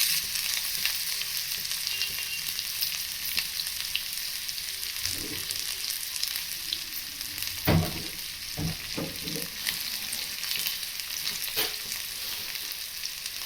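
Onions and green chillies frying in a pan, a steady broadband sizzle throughout with a few louder stirring knocks and scrapes near the middle and later on, close and alone without talk.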